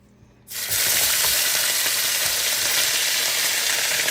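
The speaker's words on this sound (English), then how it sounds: "So we're gonna get with the steak." Steak for Spanish bistro steak hits a fully heated pan after a brief quiet start, then a loud, steady, close sizzle and fry continues without a break.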